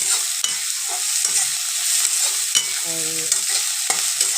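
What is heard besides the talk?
frying chopped onions until red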